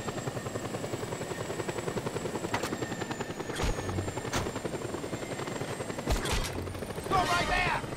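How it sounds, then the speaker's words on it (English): A helicopter's rotor chops steadily and close throughout a Just Cause 2 game scene, with sharp bursts of gunfire cracking over it and someone talking briefly. "Alright, I'm gonna take your helicopter."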